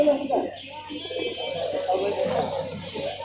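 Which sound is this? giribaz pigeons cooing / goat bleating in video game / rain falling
giribaz pigeons cooing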